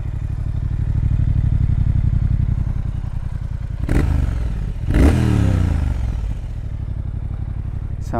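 A 2018 Triumph Thruxton R motorcycle engine idles with a steady, throbbing pulse, and two sharp blips of the throttle around the middle flare up and settle back to a loud, close idle.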